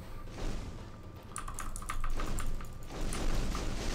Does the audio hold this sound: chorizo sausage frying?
no